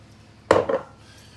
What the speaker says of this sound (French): on répartit un peu le beurre pour qu'il recouvre un peu le chocolat